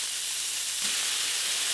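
Rump steak fries in a pan with a loud, steady sizzle and hiss that runs throughout and swells slightly about halfway through.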